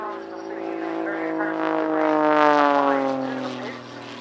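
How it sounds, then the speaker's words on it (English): A display aircraft making a knife-edge pass at Cosford Air Show, a steady engine drone with rising and falling harmonic tones as it sweeps past, fairly close and loud, with a commentator talking over it. "Arriving now for his trademark knife edge pass to close the show."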